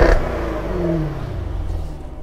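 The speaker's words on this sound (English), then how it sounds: "I'll go ahead and blip the throttle a little bit so you can get a sample of it" Exhaust of a 2014 Jaguar F-Type V8 S sports car as the throttle is blipped, a loud, close engine note that rises then eases and holds a steady rumble, with no talk.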